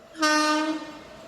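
An express train passing Pithapuram railway station blasts its horn once, a loud, harmonically rich tone that starts sharply, holds for about half a second, then fades into the rumble of the train.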